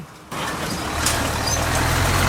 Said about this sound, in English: Vehicles in their sizes, including lorries and trailers, ply the road 24 hours a day.